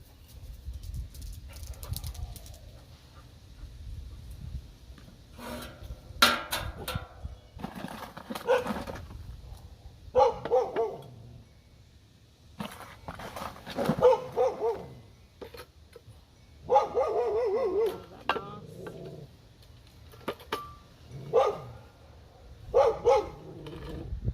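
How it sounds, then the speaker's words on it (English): A pet dog barks repeatedly, fairly close and loud, in irregular bursts across the whole stretch during succulent re-potting, with quiet handling noise between barks. "So of course my dog's going crazy."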